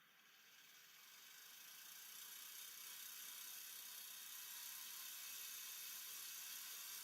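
A small electric motor running at 3.7 volts and 100 RPM gives a steady, bright whir that swells over the first two seconds and then holds level and constant, alone and close.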